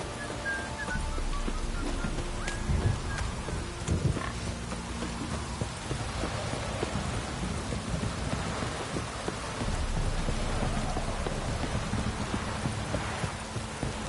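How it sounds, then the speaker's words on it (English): Steady, heavy rain pours without pause in the video game The Witcher 3: Wild Hunt, with low rumbles and a few thuds scattered through the dense wash of noise. "This downpour's a bastard"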